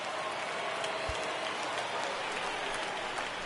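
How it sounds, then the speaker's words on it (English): Steady rain falling in MLB The Show 19 at a baseball stadium on opening day, a constant even hiss of heavy rainfall with no breaks, alone and fairly loud, with a faint low thump near the start. "There is rain in the area."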